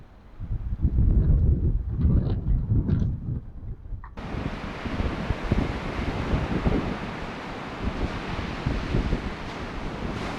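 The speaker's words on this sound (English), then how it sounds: "I've taken off the remote mics to let the waves have a chance" Sea waves breaking and surging on a cold winter coast near Banff, Scotland, with strong wind buffeting the microphone; a steady, loud wash of surf fills the scene, with gusty rumble and no talking.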